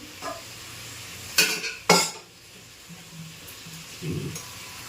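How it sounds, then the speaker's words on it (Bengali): A curry being sautéed in a pan, a low background sizzle broken by two sharp scraping stirs of a utensil against the pan, followed by quieter stirring and faint clinks. "এবার একটুখানি কষিয়ে নিই"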